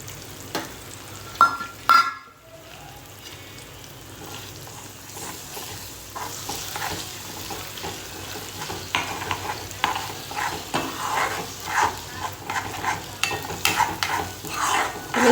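Eggs sizzle and fry in a hot pan for egg bhurji with garam masala, stirred with scattered scraping and clinking, a steady moderate crackle throughout with no talking.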